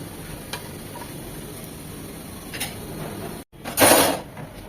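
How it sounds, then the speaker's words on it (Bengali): Cinnamon and chopped garlic fry in ghee for mung dal, a soft steady sizzle with a few light stirring taps, then a brief cut and a louder burst of frying near the end. "আমাদের দারচিনিটাও দেখুন একদম ভাজা ভাজা হয়ে গিয়েছে"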